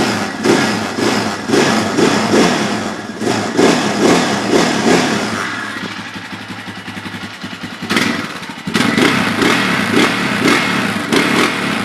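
A Yamaha Raptor 660 ATV engine runs after a cold start, a loud close single-cylinder chug with a steady pulsing beat, a brief dip and lull midway before the throbbing idle returns at full strength.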